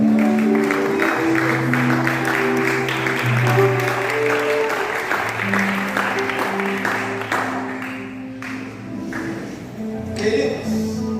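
Congregation applauding during an Assemblies of God worship service, rhythmic clapping sustained over held musical tones from instruments or singing, fairly loud and continuous.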